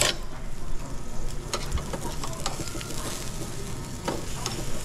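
Butterflied pork chops with barbecue sauce sizzle and crackle steadily in a hot pan, a close, continuous frying hiss with occasional sharper pops and stirring scrapes.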